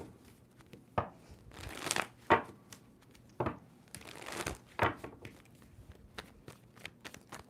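Tarot card deck being shuffled by hand in a quiet room, a series of soft, irregular riffles and papery rustles, close up and with no talk.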